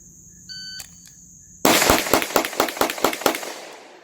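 Timed shooting drill at a range, with targets at 10 and 20 yards: a shot-timer beep, then a fast string of about ten loud, close gunshots fired in rapid succession.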